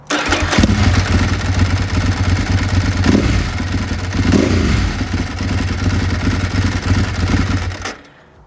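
A Ducati 996 motorcycle with a fully open dry clutch under a carbon cover starts and runs loud and close, its engine rattling and thrumming steadily for several seconds before cutting off at the end.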